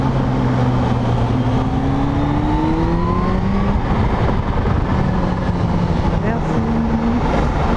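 A Kawasaki Z H2 motorcycle engine revs loud and close, its pitch rising and falling in sweeping climbs over a constant roar, while someone talks over it.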